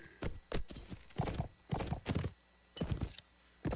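Hooves of a horse galloping in the medieval combat video game Mount & Blade: Warband, heard as loud, irregular bursts of thudding hoofbeats with brief pauses between clusters, no talking.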